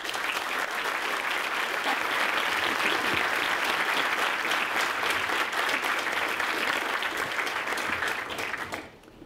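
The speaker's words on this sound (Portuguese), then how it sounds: "Uma salva de palmas para eles." An audience applauds a colonel and a major, the grandson and great-great-grandson of Rondon, with steady, full applause from many hands that holds evenly before cutting off sharply near the end.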